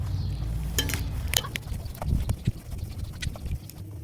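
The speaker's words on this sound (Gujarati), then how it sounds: "થોડાક એવું લીંબુ નાખી દઈશું અને એને સરસ રીતે મિક્સ કરી લેશું" Spice paste being mixed with lemon juice and oil by hand, a quiet run of irregular soft clicks and squishy stirring taps close by.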